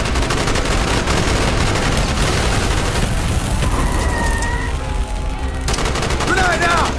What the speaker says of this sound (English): Bowman, Carlos, lay down covering fire.